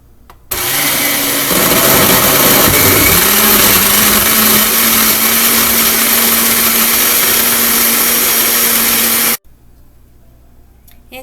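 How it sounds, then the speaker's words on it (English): A kitchen blender mixing a strawberry orange drink roars loudly and continuously for about nine seconds, its motor pitch shifting early on as the ingredients break down, then cuts off abruptly. "Once all the ingredients are into your blender, now it's ready to be mixed."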